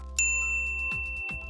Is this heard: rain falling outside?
no